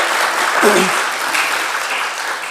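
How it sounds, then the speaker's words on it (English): Applause from a congregation's audience after a State of the Union style address, a dense, steady wash of clapping filling the whole stretch at fairly even loudness, with faint voices mixed in. "I think Rob deserves a big round of applause."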